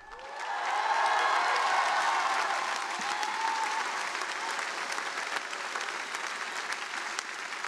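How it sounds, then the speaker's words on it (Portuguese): Audience applause fills a commencement ceremony at Harvard, a large crowd clapping steadily and loudly, swelling in the first second and holding a dense, sustained roar of claps to the end. "foi interrompido por aplausos da plateia"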